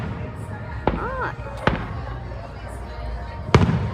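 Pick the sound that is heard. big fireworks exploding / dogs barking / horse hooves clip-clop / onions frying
big fireworks exploding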